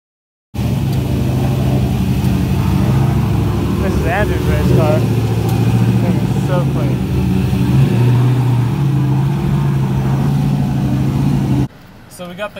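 A drift project car's engine runs steadily while the car sits loaded on a truck and trailer, a loud continuous rumble near the microphone that cuts off abruptly near the end, with people talking over it.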